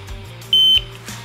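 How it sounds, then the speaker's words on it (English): An RKI GX-3R portable gas meter gives a single short, clear electronic beep at power-on, held for about a quarter second, close by against a quiet background. "Once you hear the beep, you can let go."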